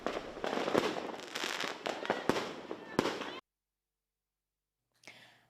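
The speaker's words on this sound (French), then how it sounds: "Accueille une nouvelle année avec pétard et feu d'artifice" Dense crackling bursts of New Year's Eve firecrackers and fireworks popping rapidly for a few seconds in Mauritius, then silence, then a brief faint burst at the end.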